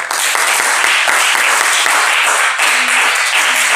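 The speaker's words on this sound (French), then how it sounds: "On acclame pour le Seigneur" A church congregation claps and applauds for the Lord during a worship celebration. The sustained, loud applause fills the space without a break.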